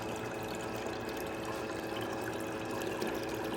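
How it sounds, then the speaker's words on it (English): Water runs steadily through a gold sluice as a continuous close rushing wash, even in level throughout. "I'll just slowly start running it through there."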